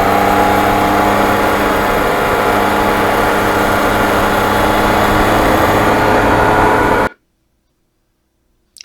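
A 2020 Yamaha MT-09 motorcycle on its first break-in ride, a loud steady engine drone mixed with rushing wind noise that holds for about seven seconds, then cuts off abruptly to silence.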